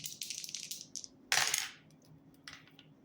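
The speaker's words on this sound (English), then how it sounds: "Rolling the dice to see what I need to shuffle a deck to." Dice clatter and tumble on a surface, a quick rattle, a sharper bright impact, then a last light skitter before settling.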